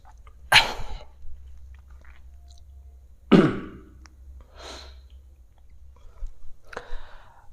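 A teacher coughs in a classroom: four sharp, harsh bursts, spaced a second or more apart, with quiet breaths between them and no talking.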